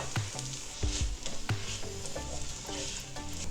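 Onions frying in a pot for lamb pilau, with steady sizzle and a few sharp clanks and scrapes of a utensil against the pot, no voices.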